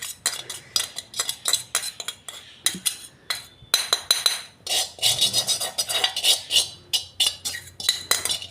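A spoon scrapes and taps cooked semolina from a pressure cooker onto a plate, giving a brisk run of metallic clinks and scrapes close by.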